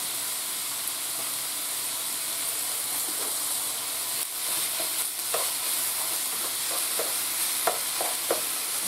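Onions and ground beef sauté in a pan with a steady, close sizzle and hiss, and a few light scrapes and stirring clinks come through near the end.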